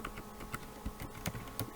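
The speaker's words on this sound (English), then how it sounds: "you type enter" Keys clatter on a computer keyboard while text is entered in MS Word, a quick, close run of light irregular taps over faint room hum.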